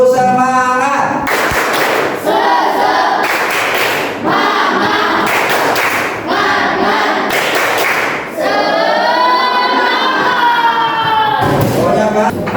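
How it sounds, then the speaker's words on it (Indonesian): A group performs a rhythmic spirit clap in unison, with loud, regular claps and thumps alternating with chanted voices and a sustained sung call toward the end. "1, 2, 3 tepuk semangat."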